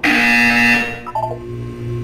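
A buzzer from the video game Portal 2 sounds as a loud, steady electronic tone for about three-quarters of a second, then fades into quieter tonal game sounds.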